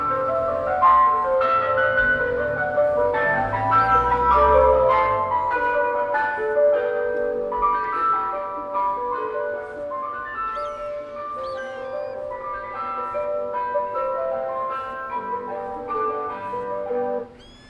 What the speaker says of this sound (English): because of the ice cream truck outside